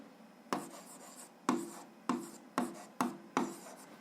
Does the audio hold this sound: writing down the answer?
yes